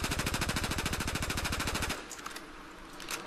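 Automatic gunfire from a Battlefield 4 weapon, a rapid, steady stream of loud, close shots lasting about two seconds, then stopping into quieter in-game ambience with a few faint distant sounds.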